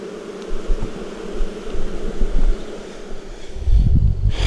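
Honey bees hum steadily at close range while their heavy hive box is carried and set down in a bee yard, with rustling and a few bumps of handling and a louder thump near the end.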